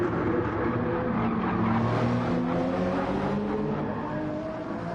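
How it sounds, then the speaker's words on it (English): A GR.3 race car in Gran Turismo 7 at a Spain circuit runs at full effort with its tyres scrubbing, giving a loud, steady engine drone that continues without a break and no talk. "You can hear the wheels scrubbing."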